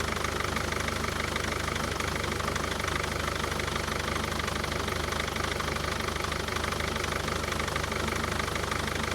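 A Mercedes Vito 638 with a 2.2 CDI diesel engine idles with a knocking fault, a loud, continuous clattering rattle with steady vibration, heard close up and alone throughout.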